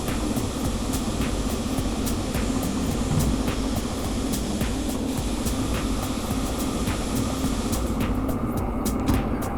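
A DH4 diesel locomotive from Derail Valley drones steadily under load as its engine revs while hauling a very long train, producing a loud, continuous low rumble with faint periodic clicks and no talking.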